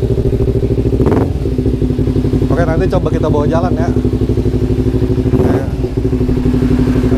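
A carbureted-era Kawasaki Ninja FI motorcycle, left standing for three years, runs steadily at idle with a deep, even, close-up engine drone throughout, with a short burst of speech midway over the engine.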